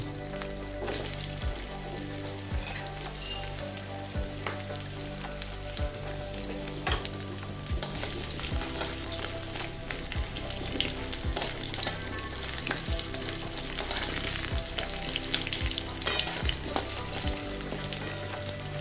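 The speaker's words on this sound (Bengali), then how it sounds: "এবার আলু কটা হালকা করে ভেজে নেব" Potato pieces fry in a pan after a black cumin seed tempering, with a constant close sizzle, broken by occasional spatula clicks and stirring.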